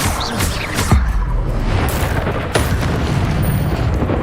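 An Incendio fire spell in Hogwarts Legacy goes off as a loud, dense burst of roaring, booming noise, with sharp thuds cutting through the continuous rumble.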